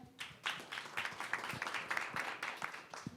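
A room full of people gives scattered, moderately loud clapping for a Lotte Central Research Institute executive invited up to present at a corporate digital project launch event, the claps uneven and fairly close throughout.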